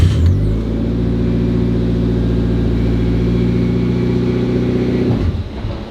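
A Mitsubishi Evo 8, idle for five years, starts up and holds a steady, loud idle with a slight rev, close by, before cutting out.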